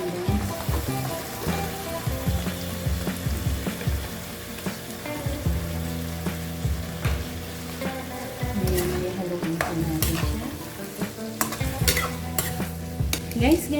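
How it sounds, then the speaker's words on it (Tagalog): Bottle gourd goes into a simmering sardine soup in a pan, with steady oil sizzle and frequent scraping, clinking stirs of a utensil against the pan, fairly close and continuous. "ngayon po ay ilagay na natin yung upo"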